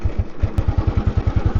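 A 2003 army-auction Royal Enfield Bullet motorcycle riding in second gear, its single-cylinder engine thumping in a steady, loud, close rhythm with no talk over it.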